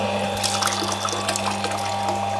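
A water pump switched on, drawing water up through its suction pipe, gives a steady mechanical hum under continuous splashing and trickling water, close and fairly loud, with no talking.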